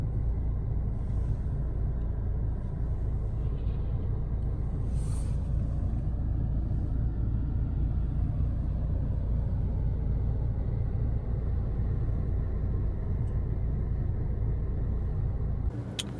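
Steady low road rumble and engine drone from inside a 2019 Mercedes A-Class driving through snowstorm traffic, continuous and even throughout with no talking.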